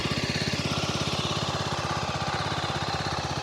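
A 2026 Beta Alp 4.0 motorcycle engine idles steadily nearby just after a button start, with a quiet, even, rapid thumping pulse that holds for the whole stretch with no talk.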